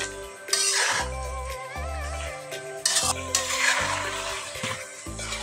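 Potatoes and beef being stirred in a wok (karahi), with repeated scraping strokes of a utensil against the metal and a soft sizzle underneath, some clinks between strokes.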